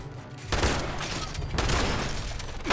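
Shotgun blasts in the video game Fallout 76 go off in quick succession, loud booming reports with brief overlapping echoes, close and dominant with no talking.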